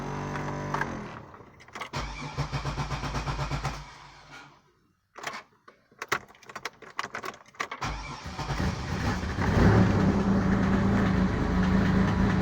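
A Pontiac Grand Am fitted with a swapped 3800 engine cranks with a whirring starter in short bursts and then catches, and the engine settles into a loud, rumbling idle up close.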